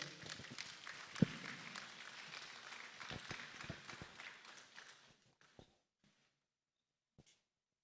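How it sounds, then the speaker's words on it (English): Audience at an arts awards ceremony applauds a speaker, a loud wash of clapping that thins out and fades to scattered last claps and then silence. "A round of applause for her."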